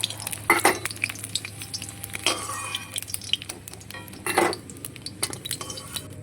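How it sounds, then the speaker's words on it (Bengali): Eggs fry in mustard oil in a wok, with a soft steady sizzle broken by several loud clattering bursts of a utensil scraping and stirring against the pan, close up and with no voices. "প্রথমে কড়াইতে একটু সর্ষের তেল দিয়ে নিলাম এবার ডিমগুলোকে আমি দিয়ে লাল লাল করে ভেজে নেবো"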